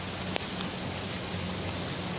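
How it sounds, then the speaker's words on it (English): Heavy rain driven sideways by strong wind in Seattle makes a dense, steady hiss for the whole stretch, with a few faint sharper taps, and nobody speaks. "Another video shared from Seattle showed heavy rain that appeared to be falling sideways due to strong winds"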